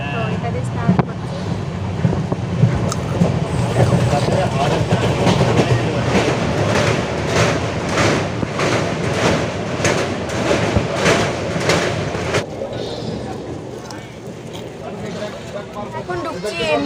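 A train pulls into NJP station with a steady rolling rumble and a regular clickety-clack of wheels over rail joints that fades in the last few seconds. Passengers can be heard talking throughout.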